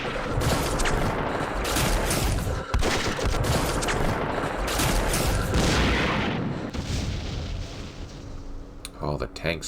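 Tank guns and explosions roar through a Vietnam war strategy game set at Dien Bien Phu, with dense, continuous volleys of booms and crackling fire at a loud level for nearly the whole stretch, thinning slightly toward the end.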